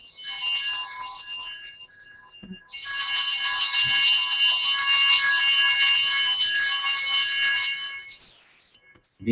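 A loud, sustained electronic bell tone rings during a church Mass leader training session, starting briefly, pausing, then sounding again for about five seconds before cutting off into quiet.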